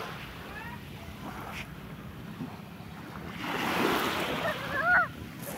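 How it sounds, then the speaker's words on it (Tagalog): Sea waves along a clear-water beach, a soft steady wash of surf and wind that swells louder toward the end, with faint distant voices underneath. "Yung alon is maganda."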